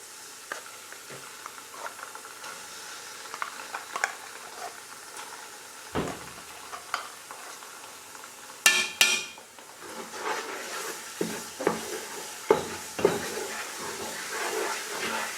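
Canned Sonia tomato goes into a pot of Nigerian jollof rice stew base and is stirred in, with light clinks and scrapes that grow busier and more rhythmic in the second half.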